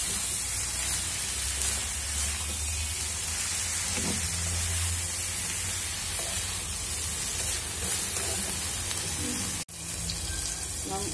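Potatoes sautéing in a pan, a steady close sizzle and hiss that runs throughout, with occasional faint stirring scrapes and a brief break near the end.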